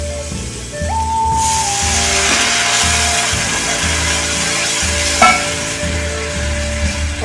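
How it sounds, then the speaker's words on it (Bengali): Water hits sizzling fried spice masala for paneer bharta, setting off a sudden loud hissing burst that keeps crackling steadily, while soft melodic background music plays underneath. "মশলাটা কষা হয়ে গেছে। এবার আমি একটু জল দেবো।"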